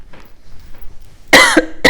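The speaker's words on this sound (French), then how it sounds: "Mais décidément, cette toux, elle me lâche pas" A woman coughs sharply twice, close and loud, after a quiet pause.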